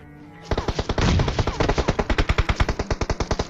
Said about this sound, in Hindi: मेरे पे पीछे से फायर हुआ, लेकिन जिस बंदे ने फायर किया उस बंदे को किसी दूसरे बंदे ने मार दिया